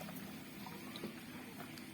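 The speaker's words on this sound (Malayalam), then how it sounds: "ഇങ്ങനെയാണ് നമ്മൾ എളുപ്പത്തിൽ നമ്മൾ പാല് ഒഴിക്കുന്നത്" Rubber latex milk is poured into dishes, giving a faint, continuous liquid trickling and splashing that stays low and even throughout the short stretch.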